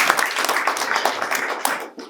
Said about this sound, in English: a round of applause to the head teachers